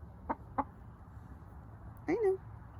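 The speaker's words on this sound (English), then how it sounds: "My dog is freaking the hen out." A hen unsettled by a dog gives two short, sharp clucks, then a louder squawking cluck after a pause, close by over a low background hum.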